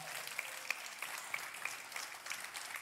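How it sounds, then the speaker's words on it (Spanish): A church congregation claps together in a steady rhythm, moderately loud and filling the room, with sharp individual claps standing out in the spread of hand noise. "Ahora sí, dale ese fuerte aplauso al Señor."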